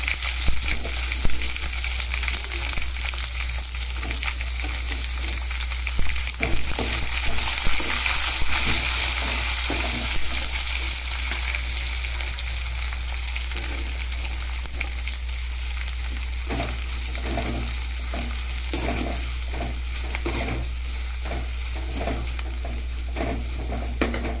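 Sliced onion frying in oil in a pan for Tamil uppu thanneer sambar, a steady loud sizzle with spoon stirring and scraping throughout, no talk.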